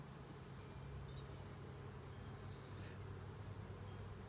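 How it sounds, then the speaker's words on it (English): Honeybees hum softly and continuously around an opened hive during an inspection on a sunny day, a faint, even buzz with no voices. "You notice how calm the bees are."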